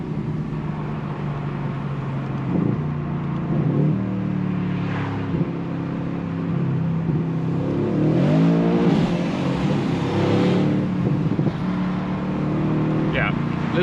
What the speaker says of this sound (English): Little rev limiter there, which I still don't like